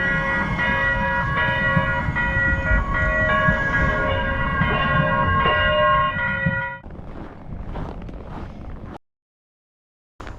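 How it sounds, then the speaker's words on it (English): A Minneapolis light rail train pulls away from a station, a loud, steady rolling drone with a sustained horn-like tone that cuts off partway through, followed by quieter rumble and then silence. "Then we arrive at our station and watch our train pull away."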